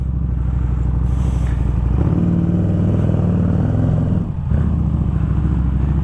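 A Harley-Davidson Street Rod 750 motorcycle engine rumbles loudly up close, its stock exhaust throbbing steadily with a brief dip before picking back up.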